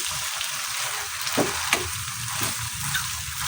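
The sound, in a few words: stirring pasta in a frying pan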